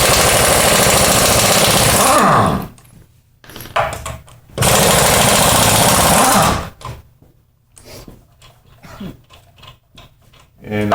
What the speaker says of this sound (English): get out your impact wrench or ratchet or breaker bar or whatever you're going to use and just take the wheels off